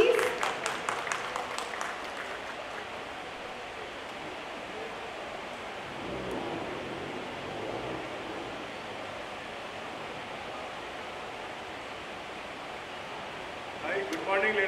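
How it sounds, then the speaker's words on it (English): Applause from an audience at the Mumbai International Motor Show launch event, a sustained, even wash of clapping heard from a distance, fading softer partway through and swelling again at the end. "Applause for sir, please."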